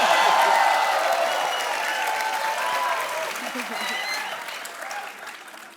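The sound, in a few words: studio audience applause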